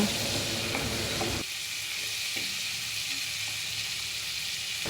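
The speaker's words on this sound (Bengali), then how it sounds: "ভালো করে উল্টে পাল্টে মাছগুলোকে সুন্দরভাবে ভেজে নেব" Prawns are turned and fried in hot oil in a wok, a loud stirring scrape and sizzle that eases into a steady, quieter fry with light crackles, no voices present.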